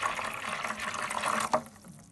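Water is poured into a container to fill a homemade reptile egg incubator just enough to cover the water heater, a steady splashing rush that ends with a short bump and then fades, with no talking.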